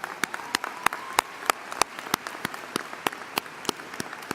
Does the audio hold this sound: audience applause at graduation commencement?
yes